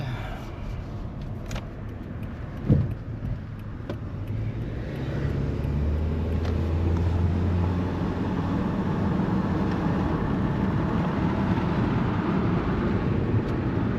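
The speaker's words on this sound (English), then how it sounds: "Drives pretty well. Goes through the gears." A 2010 Subaru Forester under way from inside the cabin: a low, steady engine and road rumble whose pitch shifts as it moves through the gears, with a brief knock early on and a faint voice.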